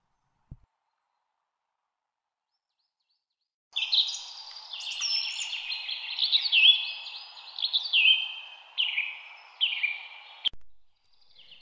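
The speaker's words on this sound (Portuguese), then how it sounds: "O gentil cantarolar de dois pássaros." Two birds sing gently in a forest, their clear, warbling phrases overlapping in a steady run of chirps and trills after a few seconds of silence, close and moderately loud.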